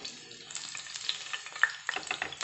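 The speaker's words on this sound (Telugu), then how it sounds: "ఆయిల్ హీట్ ఎక్కింది కదా, ఇందులో ఇప్పుడు మనం 2 గ్రీన్ చిల్లీ స్లిట్ చేసి వేసుకున్నాము" Two slit green chillies sizzle and spit in hot oil, a steady close crackle with sharp pops scattered through it and no voices.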